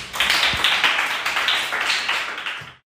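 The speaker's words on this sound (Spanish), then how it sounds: "un aplauso" A group applauds in a podcast session, dense and loud close clapping that holds steady for a few seconds and then stops abruptly.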